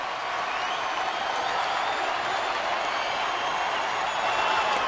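Steady crowd noise from a sellout ballpark crowd at a Dodgers baseball game, a continuous broad wash of murmur and light applause that holds level throughout.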